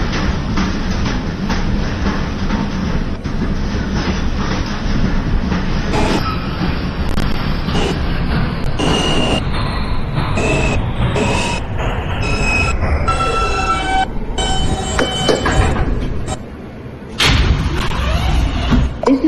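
A Manhattan-bound J local subway train rumbles steadily along the track. Its wheels squeal in bursts over the loud, continuous roar, with a short dip near the end.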